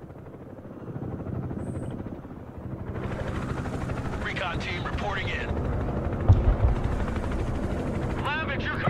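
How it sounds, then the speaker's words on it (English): Helicopters in the Broken Arrow video game make a steady rotor drone throughout, rising in loudness midway. A radio voice speaks briefly over it and brief chirping effects sound. "Still got helicopters in here, haven't they?"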